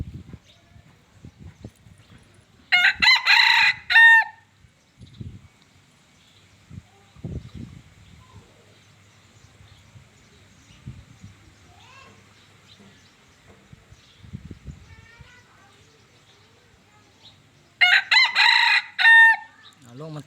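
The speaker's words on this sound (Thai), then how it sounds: "ไก่ต่อลูกผสม" A hybrid decoy rooster crows twice, loud and close, about fifteen seconds apart, with soft clucks, rustling and quiet background sounds between the calls.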